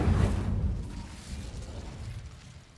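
Incendio fire spell cast in Hogwarts Legacy: a deep burst of flame at the start that fades into a low, rumbling crackle.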